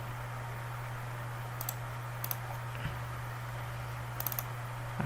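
A computer mouse clicks sparsely, a few short sharp taps over a steady low electrical hum while working in Photoshop, close and fairly quiet.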